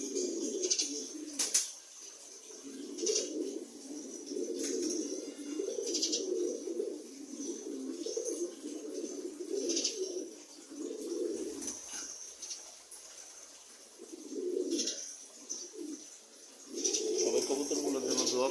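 Pigeons coo in repeated low rolling phrases through most of the stretch, fairly close, with brief breaks, faint chirps and some background noise.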